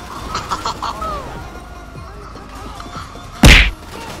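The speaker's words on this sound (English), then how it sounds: "Okay, all I hear is explosions." A grenade goes off on a beach in the GTA 5 video game: one loud, booming blast near the end, after quieter game ambience and some chirping, clucking tones.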